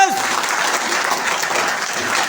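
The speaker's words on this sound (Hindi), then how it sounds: "एक बार तालियां बनती हैं व्यक्ति के लिए" Indoor business-seminar audience breaking into loud, sustained applause for a person, a thick continuous roar of many clapping hands; a brief voice fragment opens the clip before the clapping takes over.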